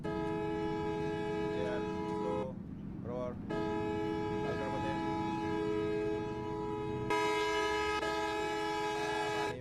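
A long, steady train horn blares close by on a journey out of Chittagong city, a sustained multi-tone honk broken by a brief gap before resuming, over rumbling engine noise.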